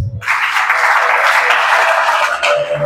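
A church congregation at an evening worship service claps together in a steady, loud burst of applause that fills the room, with a few voices faintly underneath.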